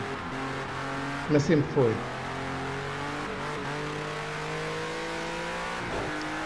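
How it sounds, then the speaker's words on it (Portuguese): A race car engine drones steadily in the driving game Project Cars 2, a sustained mid-pitched roar with a short burst of revving gear changes near the start, while someone talks briefly over it. "O roncar do carro, opa, a meu ver, é bem superior ao Gran Turismo."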